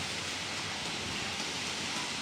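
Heavy rain pouring at EPCOT, Walt Disney World, a dense, even hiss of falling water, steady and moderately faint throughout, with no voices.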